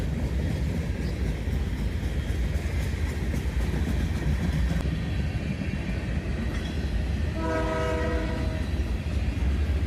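A freight train hauled by CSX, KCS and Canadian Pacific locomotives rumbles past up close in a loud continuous roar with rail clatter, and a horn sounds briefly near the end.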